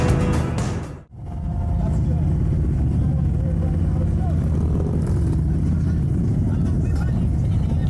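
Harley-Davidson motorcycle cruising along a road on Ko Chang island in Trat, Thailand, giving a steady, loud engine drone and wind rumble that holds for the whole clip after a brief dip near the start.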